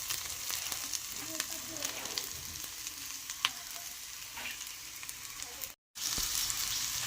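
Shrimp head paste frying with salt and turmeric, a continuous close sizzle with scattered pops and soft stirring scrapes, ending in a brief cut before the sizzle resumes.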